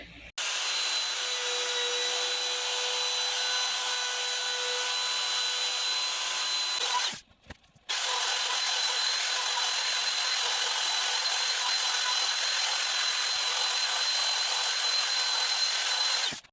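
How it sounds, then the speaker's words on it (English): A router cuts old veneer out of a walnut burl panel, running as a loud, steady high-pitched whine for about seven seconds, cutting out briefly, then resuming just as loud for the rest of the stretch, with no talking. "I routed out all the old veneer"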